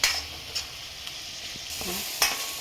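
Onions frying and being stirred in a pan for onion thokku; a low, steady sizzle with scattered stirring scrapes, close by, no talking.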